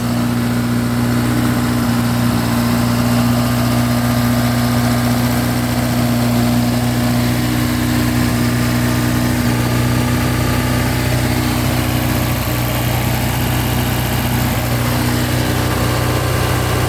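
A 1987 Ford Sierra RS Cosworth turbocharged engine idles from a stone-cold start after sitting for a couple of days, with a loud, steady, even drone close by that runs throughout without talk.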